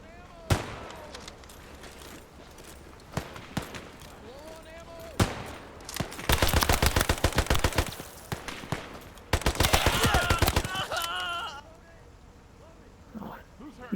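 Submachine gun fire in a war video game: scattered single shots, then two long rapid bursts of automatic fire, close and loud, with someone talking in between.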